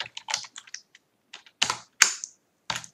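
Bursts of quick, close clicks come from a computer keyboard, with short pauses between groups of keystrokes. No voices are heard.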